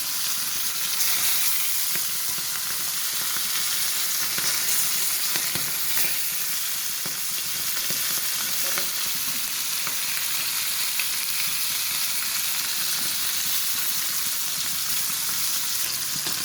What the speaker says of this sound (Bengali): তার জন্য শুধু মাছ ভাজে দিব